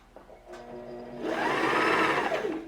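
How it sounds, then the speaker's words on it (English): A Singer sewing machine winds its bobbin. A brief mechanical click comes first, then the motor rises into a steady, loud whirring hum that holds close and alone. "you're going to press the pedal to begin winding the bobbin"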